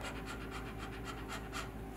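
A child imitates a dog panting during a kids' yoga breathing exercise, producing about eight quick, rhythmic, breathy puffs close to the microphone with no talking.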